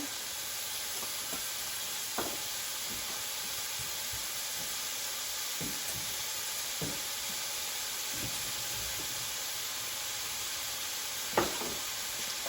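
Seasoned meat, salted and peppered, cooks in a pan with a steady, moderately quiet sizzle and hiss, broken by occasional soft clicks and scrapes of stirring, with no talking.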